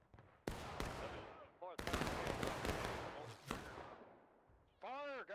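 Heavy bursts of musket fire and booming cannon blasts in the American Civil War video game War of Rights crash back and forth, loud and dense, with brief gaps and a ringing tone near the end.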